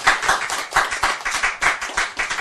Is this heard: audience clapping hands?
yes